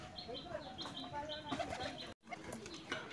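Pigeons gathered in the morning, waiting to be fed chickpeas, giving soft coos and chirps with a brief flutter of wings, fairly faint and close, with a short dropout partway through.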